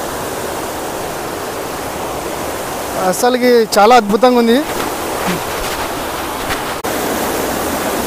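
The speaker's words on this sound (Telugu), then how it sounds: "ఇక్కడ మనకు వచ్చేసి పెన్నా నది ప్రవహిస్తున్నది" The Penna river flows in a steady, broadband rush that runs unbroken through the whole stretch, while a person talks briefly over it partway through.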